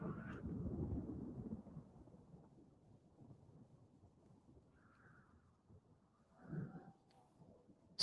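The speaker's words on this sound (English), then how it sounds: "It's a dry thunderstorm." Thunder from a dry thunderstorm in the RimWorld video game starts as a low rolling rumble that fades, then returns as a fainter, brief grumble later, quiet and without speech.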